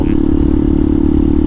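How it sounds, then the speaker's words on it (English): A Benelli TNT 135 motorcycle fitted with a Max Torque full exhaust holds a loud, steady rumble close by. The tone stays even and unbroken for the whole stretch, with no voices over it. "so exhaust, I think it sounds great"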